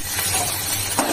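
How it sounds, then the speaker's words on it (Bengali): Fish pieces rubbed with salt and turmeric sizzle in hot oil in a pan, a steady, close frying crackle with a faint clink near the end. "একটু লবণ আর হলুদ মাখিয়ে মাছগুলো ভাজে দিই।"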